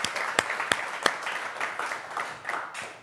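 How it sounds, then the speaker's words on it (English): Applause from an audience at a sarcoma fundraising event, a fairly faint, thin round of clapping with a few sharp individual claps standing out, steady for about three seconds with no talk over it. "How about a round of applause for Jennifer?"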